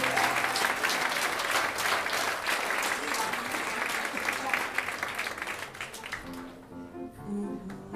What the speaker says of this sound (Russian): Не пожалейте аплодисменты для молодого дарования.